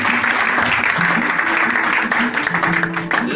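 A church congregation claps loudly and continuously during a Sunday service, a dense crowd applause with voices and a sustained musical tone running underneath.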